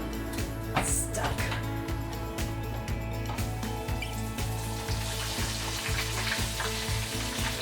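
Chicken pieces for fried chicken drop into hot oil with a steady, loud crackling sizzle and quick bubbling bursts, while people talk faintly in the background.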